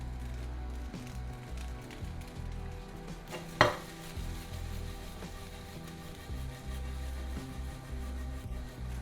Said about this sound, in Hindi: अब हाई हीट में भूनेंगे। इसमें भी हल्का बटर डालेंगे।